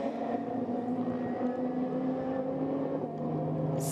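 Leon AMG race car pulling into the pits during a Super GT race in Thailand: a steady, fairly loud engine drone that holds level throughout, with no one speaking.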